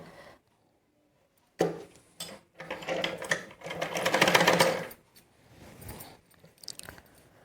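Sewing machine stitching night gown fabric, starting abruptly after a quiet pause with short bursts and then a sustained whirring run of rapid mechanical stitching, followed by lighter intermittent stitches, close and fairly loud.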